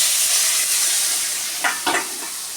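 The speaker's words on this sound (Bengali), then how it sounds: "যে আলুটা কেটে রেখেছি আলুটা আমি ভেজে নেব" Cut potatoes with turmeric and salt frying in a pan, a close, steady sizzle with two quick stirring scrapes toward the end.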